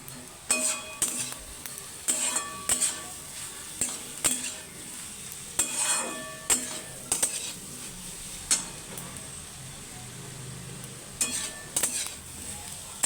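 Potato and egg bhujia frying in a pan while a metal spatula stirs it, sharp scrapes and clinks recurring every second or so over a faint, steady sizzle.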